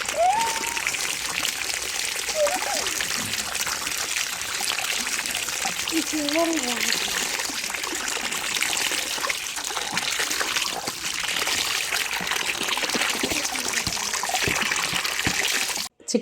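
Water running and trickling into a bucket while broad beans are washed outdoors, a steady broadband splash lasting throughout, fairly loud, with brief bird-like chirps and faint voices in the background.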